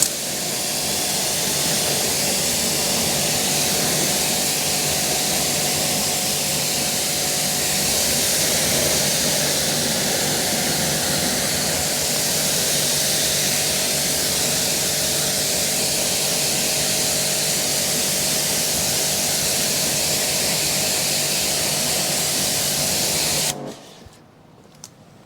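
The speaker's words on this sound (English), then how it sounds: "So let's rinse off." A pressure washer spray rinses detailing product off a car, a loud, steady hiss that runs unbroken for about twenty-three seconds before cutting off abruptly.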